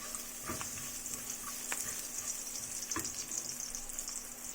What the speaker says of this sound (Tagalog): Magigisa na tayo ng mga gulay. Ayan, naglagay lang ako ng onting mantika dyan. Lagay na natin yung garlic.